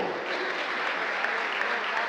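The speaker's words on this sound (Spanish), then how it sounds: "El aplauso para esos jóvenes de segunda división." Steady crowd applause for young second-division football players at a team presentation, continuous dense clapping with no talk over it.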